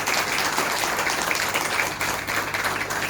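Steady applause from an audience at a school investiture ceremony, many hands clapping continuously at moderate volume, slightly distant and even throughout, with no voices over it.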